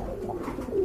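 A large pink-beaked crested pigeon coos close by in a low, throaty call that swells louder toward the end, with no talking.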